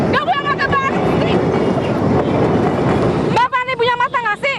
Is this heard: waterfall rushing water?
no